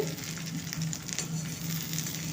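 An egg omelette, just flipped, fries in a small amount of oil with a continuous crackling sizzle and scattered pops, close to the pan and without speech.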